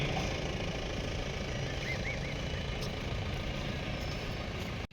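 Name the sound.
parade inspection vehicle driving past the stalls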